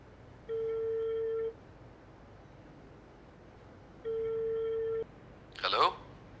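A telephone rings unanswered in a quiet room: two long electronic ring bursts about a second each, separated by a pause, followed by a brief scraping rustle.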